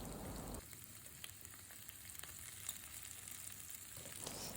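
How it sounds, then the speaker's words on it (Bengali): Onion and dried shrimp fry in oil in a home kitchen, giving a steady, fine sizzle that crackles on throughout with small pops and a quick stirring shift near the start, and no voices. "আমি তেলের মধ্যে পেঁয়াজ তারপরে হচ্ছে চিংড়ি শুটকি কিছুক্ষণ ভেজে নিচ্ছি"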